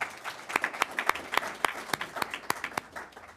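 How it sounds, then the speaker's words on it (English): A round of applause at a school board meeting, a small crowd clapping in a loose, fairly rhythmic pattern of distinct claps that taper slightly toward the end. "So a round of applause for these 4 schools,"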